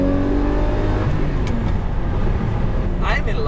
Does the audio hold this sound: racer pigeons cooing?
no